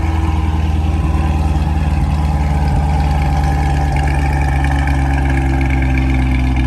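A C8 Corvette engine fitted with a new aftermarket air filter idles steadily with a deep, loud, constant rumble, close by and with no talking.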